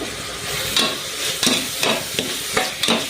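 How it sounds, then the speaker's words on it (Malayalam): Turmeric and garam masala stirred into sautéed onions and chilies for a soya bean side dish, with a soft sizzle under repeated spatula scrapes and taps against the pan, spaced roughly every half second. "ഇനി ഇതിലേക്ക് നമുക്ക് 1/4 ടീസ്പൂൺ മഞ്ഞൾപ്പൊടി, 1/2 ടീസ്പൂൺ ഗരം മസാലയും കൂടി ചേർത്ത് മിക്സ് ചെയ്യാം"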